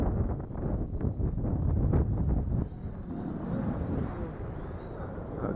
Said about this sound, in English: Okay, this is the wind blowing it back.